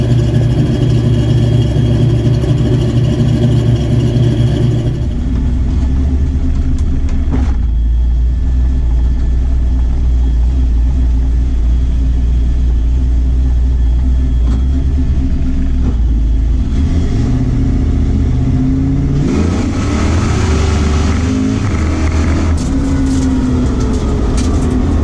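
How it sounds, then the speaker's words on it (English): Drag racing car with 4.10 gears starting up, then idling with a deep steady rumble, engine revs climbing near the end, loud and close with no talk. "I'm gonna go ahead and fire the car up, take it for a rip down the road"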